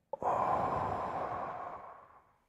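One slow, deep breath drawn in and let out, close and fairly quiet, starting with a brief catch and then a long airy exhale that fades out, with no talking.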